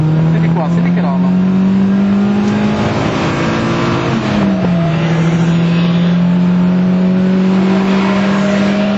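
Race car accelerating hard out of corners on the Adria circuit, a loud sustained engine note climbing in pitch, dipping briefly mid-way and rising again, heard close from inside the car.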